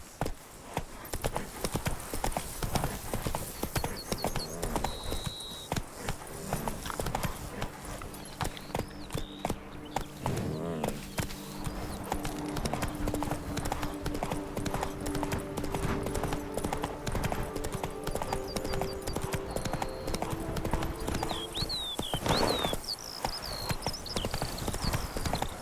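Roach, the horse in The Witcher 3, clip-clops steadily on hooves for a long stretch, with a brief whinny and occasional game voices and effects layered over the rhythmic footfalls.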